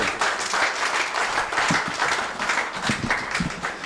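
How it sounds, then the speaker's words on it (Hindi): Steady applause from an audience in a community hall, dense and continuous for several seconds with a few sharper individual claps poking through. "हम नितिन कुमार को ताली से धन्यवाद दें, जोर जाए ताली से धन्यवाद दें"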